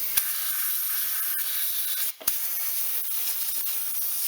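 Compressed air hisses steadily as it blows sanding slurry out of a Stratocaster guitar body being prepared for metal flake paint, a continuous close spray broken by one brief pause near the middle.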